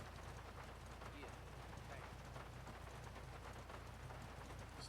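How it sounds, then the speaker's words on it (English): Steady rain in GTA 5 hisses across the whole stretch at an even level, with someone talking over it. "I'm turning the rain again."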